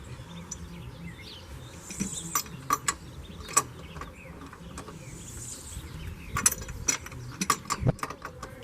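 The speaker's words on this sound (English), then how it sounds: "I will be using this plumbing ratchet in order to remove this driving fan." A plumbing ratchet clicks in quick, uneven bursts as it turns the fan off a Range Rover L320 engine, close and fairly quiet, with workshop hum between the clicks.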